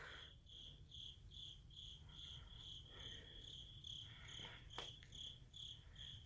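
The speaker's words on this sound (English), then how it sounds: "Those crickets you hear, they are inside of the store with me here." Crickets chirp inside a dark abandoned store at night, a steady rapid pulsing trill repeating evenly throughout over a low background hum, fairly close and alone without talk.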